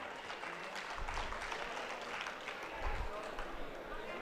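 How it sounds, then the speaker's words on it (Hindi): Applause from the audience at a mushaira poetry gathering in Amalner, a dense, steady patter of many hands that holds fairly evenly throughout, heard at moderate distance in a large space. "जोरदार तालियों से इस्तकबाल करें।"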